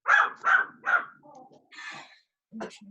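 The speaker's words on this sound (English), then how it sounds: "Whose dog is that?" A dog barks three times in quick, loud succession, then lets out softer grumbling sounds and one more short bark, with no talking around it.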